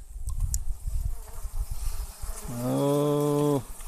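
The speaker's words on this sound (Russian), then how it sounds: "Пчелы очень активные." Low humming buzz of many honeybees in a hive in winter under rustling noise, then a steady droning tone swells for about a second before cutting off.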